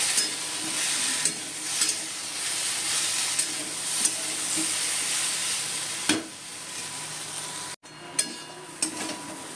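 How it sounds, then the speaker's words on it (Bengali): Potatoes and onion fry in a pan, a continuous hissing sizzle with a few scattered clicks of stirring and a brief dropout near the end. "এইগুলো আলু ভাজা হয়ে গেছে, পেঁয়াজও দিয়ে দিয়েছি"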